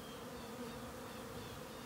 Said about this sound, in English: Now let's watch these bees all gather up on the outside of it